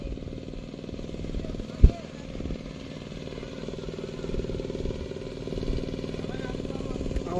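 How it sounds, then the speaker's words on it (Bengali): A machine runs at a distance beside a canal, a steady low mechanical chugging drone under close talking voices, with one sharp knock partway through. "একদিন মেশিন চলছে আবার"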